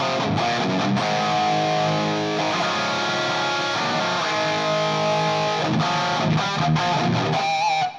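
Electric guitar played through a TONEX amp modeler with a modulation effect, a dense, distorted lead tone with sustained chords and notes filling the clip continuously at full, close volume.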